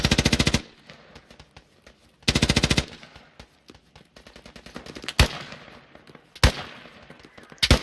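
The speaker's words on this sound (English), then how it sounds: "Is that a mounted machine gun at the top of that hill?" Mounted machine gun firing in the military shooter game Squad, loud sustained bursts of rapid shots separated by pauses, along with sharp single cracks and scattered distant gunfire.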